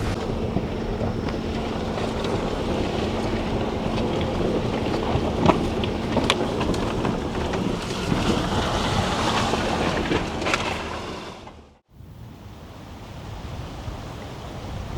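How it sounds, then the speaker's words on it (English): ATV driving along a rugged off-camber trail near Kootenay Lake, a steady loud engine and road roar heavily mixed with wind buffeting the microphone, briefly dropping out near the end before resuming. "Yeah, we're on an ATV trail."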